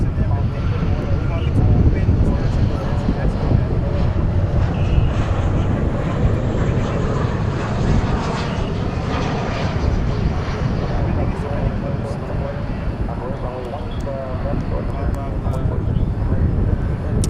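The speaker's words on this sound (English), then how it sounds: "Qantas getting ready to take off." Qantas airliner at DFW airport rumbling as it prepares for takeoff, a steady broad roar heard from a distance under ongoing talk.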